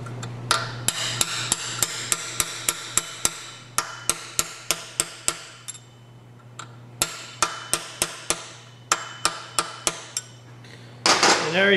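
Sharp hammer strikes drive a roll pin into the axle of a three-speed transmission, landing in quick rhythmic bursts of several blows with short pauses between, close and loud over a steady low hum.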